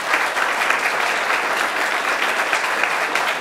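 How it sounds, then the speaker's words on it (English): Steady, dense applause from an audience at a hospital approval event, filling the space evenly with no voices standing out. "He gets a big round of applause"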